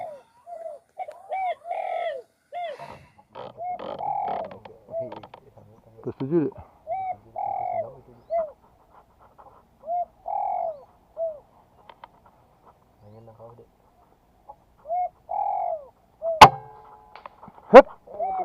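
A spotted dove in a tree gives repeated soft, rhythmic coos at moderate distance. Voices murmur in places, and two sharp cracks ring out near the end.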